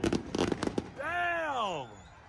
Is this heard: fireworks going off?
yes